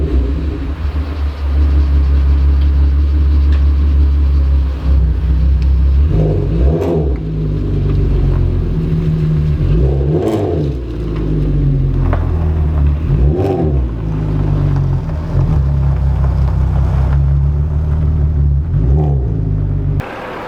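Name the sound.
Volkswagen car driving to the gas station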